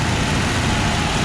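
A 1966 Ford Bronco engine idling a little high, a steady, loud, even running drone heard alone with no voices over it.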